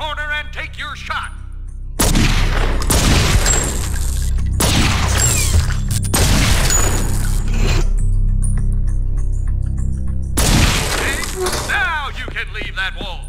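Gunfire in the PS2 game True Crime: New York City, loud bursts of shots in several repeated volleys of about a second each, separated by quieter gaps.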